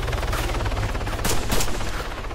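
Gunfire in Arma 3 during a team firefight, a steady crackle of rapid shots with a louder burst of close reports near the middle, all sounding without any talk.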